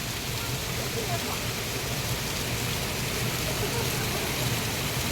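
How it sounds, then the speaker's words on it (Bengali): Water pours from a height at a waterfall in Mattlang Amusement Park in Shillong, a dense, steady roar of rushing spray that fills the scene evenly and close by, with no voices breaking through. "গাইস দেখো কতটা উঁচু থেকে জলটা পড়ছে।"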